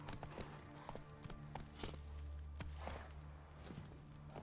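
Horse hooves clip-clop at a walking pace in The Witcher 3 video game, a series of regular, moderately spaced thuds over a low steady background hum.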